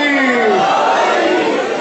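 A crowd of worshippers chants a religious slogan in unison at a shrine celebration in Lahore, a loud, dense mass of voices rising together in a sustained, rhythmic call.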